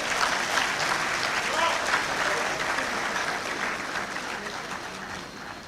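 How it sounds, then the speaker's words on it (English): A large hall of graduates applauds themselves at a university congregation ceremony for the College of Basic and Applied Sciences, a broad, steady crowd clapping that carries on evenly for several seconds before slowly easing. "Please clap for yourself."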